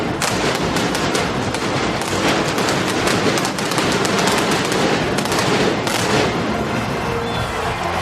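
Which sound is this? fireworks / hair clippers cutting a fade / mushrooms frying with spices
fireworks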